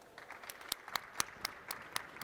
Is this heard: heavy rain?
no